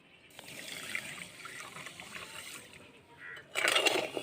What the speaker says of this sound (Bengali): যতটা চিনি দিলাম ঠিক ততটাই আমি জল দেবো